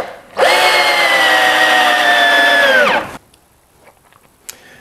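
A power tool drives bolts through a wooden double gate's angle brace in one loud, steady whir of about three seconds that stops abruptly, followed by faint handling clicks.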